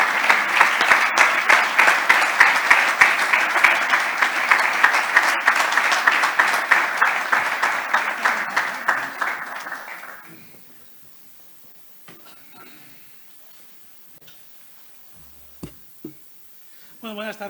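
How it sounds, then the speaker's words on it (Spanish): Audience applause welcoming La Liga president Javier Tebas at a sports and faith event, dense steady clapping for about ten seconds that quickly fades into near silence with a few faint scattered sounds. "A mí me gustaría pediros un fuerte aplauso para recibir al presidente de la Liga, a Javier Tebas"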